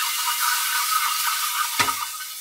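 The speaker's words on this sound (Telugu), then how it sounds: "ఈ లోపల మనము ఉడకేసిన గుడ్లని వేయించుకుందాము." Boiled eggs frying in hot oil in a home kitchen, a steady hissing sizzle throughout with a brief clatter or stir partway through.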